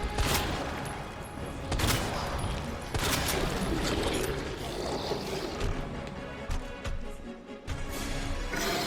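Bursts of gunfire in the Resident Evil game, Leon's scenario, as shots hit a creature's glands. Sharp reports come in clusters over a loud, busy mix of game music and mechanical noise, and a voice speaks faintly underneath.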